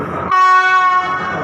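A Thai rapid train, number 111, sounds a loud, sustained horn blast lasting under a second as it departs the station, with low rumbling rail noise before and after.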